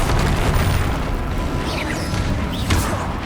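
A Bombarda spell explosion in Hogwarts Legacy on PC, fought alongside allies against a troll: a loud, dense booming blast with crashing debris and rumble filling the short moment, followed by a sharper secondary burst.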